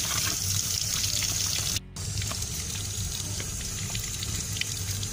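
Water runs steadily over the speaker grill of a Huawei P10 Plus phone, a continuous close splashing hiss broken by one brief pause near the middle, with no talking.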